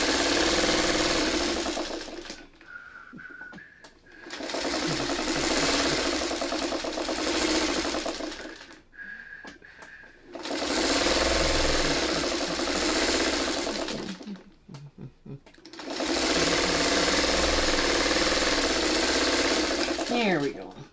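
A sewing machine stitches a quilt block in four long close bursts of rapid even whirring, separated by short pauses with a brief high tone and soft handling sounds.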